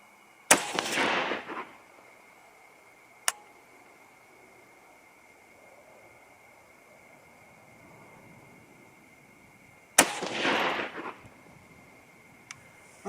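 Two sharp rifle shots from a 6mm ARC firing 90 grain Game Changer bullets, about nine seconds apart, each a loud crack with a brief echoing tail, plus a couple of faint clicks between them, no talking.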